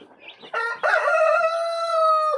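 A rooster crows loudly and close by among Brahma chickens, one long drawn-out call, with a brief cluck just before it.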